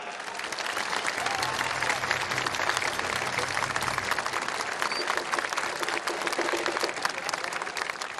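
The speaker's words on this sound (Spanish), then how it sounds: "un joven de 18 años llamado Peter Fetcher, para el cual pido un fuerte aplauso ahora." Large crowd at a political rally in Tucumán breaking into sustained, loud applause, a dense continuous roar of clapping with faint voices mixed in throughout.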